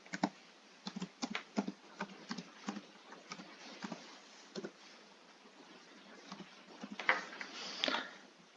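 Someone types a password on a computer keyboard, a run of quiet, irregular key taps with short pauses and a brief busier flurry near the end, no voices.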